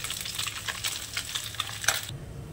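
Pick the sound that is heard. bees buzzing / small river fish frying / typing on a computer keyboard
small river fish frying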